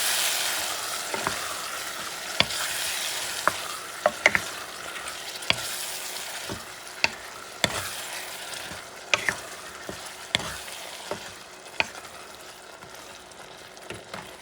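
Black beans fry and sizzle in a pan with a steady hiss, while a spoon scrapes and taps against the pan in irregular sharp clicks every second or so, close and without any talking.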